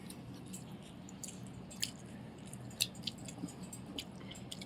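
Someone chews fried pointed gourd (potol bhaja) close to the mic, faint soft squishy bites and mastication with a few sharper clicks, no talking.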